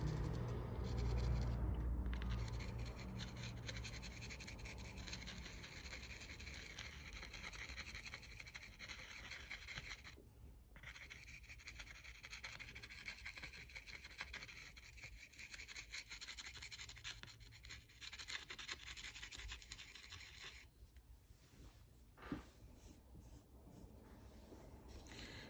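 A pastel pencil works blue over black on paper while drawing a dog's nose, giving a faint, steady scratching of continuous strokes with brief pauses between passes.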